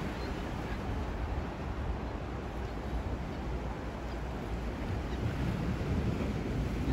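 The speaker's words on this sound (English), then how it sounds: "I know y'all can hear the water breaking." Water waves breaking along a pier waterfront, a continuous broad wash of surf with wind buffeting the microphone, steady and fairly loud.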